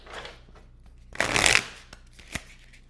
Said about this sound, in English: I literally shuffled so hard